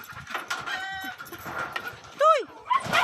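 A chicken squawks and clucks in sharp bursts while a dog named Darna chases it around a yard, the calls loud and near toward the end over a busy background.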